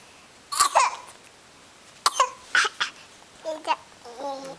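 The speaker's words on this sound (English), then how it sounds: "Oh, he was coughing." A baby gives several short coughs and throat noises up close, scattered across a few seconds, mixed with small babbling vocal sounds.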